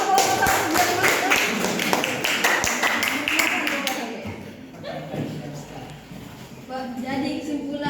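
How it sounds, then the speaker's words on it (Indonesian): Classroom applause for a student group during a lesson: a dense, lively burst of clapping for about four seconds, then it fades out and voices carry on talking. "Tepuk tangan dulu kelompok 1."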